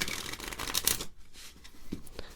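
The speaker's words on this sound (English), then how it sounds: "with me I have a deck of cards, and I'm just going to give it a little shuffle" A deck of playing cards being shuffled close up in a quiet card-magic setting, a dense papery riffle building for about a second, then softer scattered card taps and slides.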